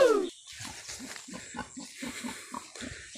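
A sow grunts on a farm, a steady run of low, close snuffling grunts that repeat in quick rhythm with no talking.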